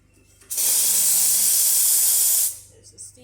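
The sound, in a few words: steam hissing from Izzo Alex Duetto espresso machine steam wand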